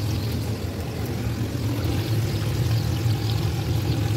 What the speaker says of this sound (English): So I put this vinegar.